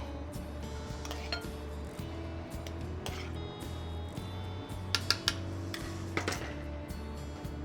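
Dishes clink softly as a stuffed pepper is plated in a kitchen, scattered light clinks and taps of plate and cutlery over a low steady hum, with no talk.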